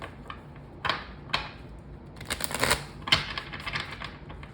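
A tarot card is drawn from the deck with a few separate clicky flicks followed by a rapid rustling, snapping flurry of card handling, close and fairly quiet.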